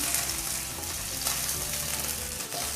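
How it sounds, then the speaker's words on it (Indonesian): Shrimp fry in hot oil in a pan, giving a constant close sizzle and crackle with faint stirring clatter, steady throughout with no talk. "Udang goreng setengah matang juga ya teman-teman, kemudian siap untuk diangkat."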